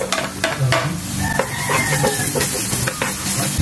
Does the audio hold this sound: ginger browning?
yes